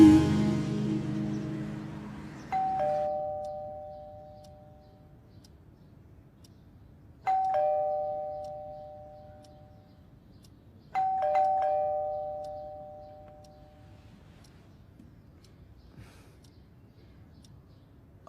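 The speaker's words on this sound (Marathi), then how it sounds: "एवढा वेळ बेल वाजते ऐकू येत नाही?" A house doorbell rings three times, each a clear two-tone electronic chime that rings out and fades before the next press, with quiet room tone between rings.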